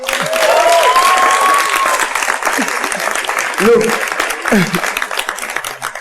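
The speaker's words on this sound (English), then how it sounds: "I don't like it when you clap for guests after everything they say." A talk-show studio audience claps loudly and steadily for a guest in a dense burst that tapers off, with talk over it.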